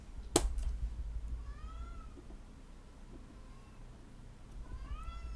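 Cat meowing indoors, a couple of faint drawn-out rising-and-falling meows, one early and another near the end, over a quiet room with a sharp click at the start.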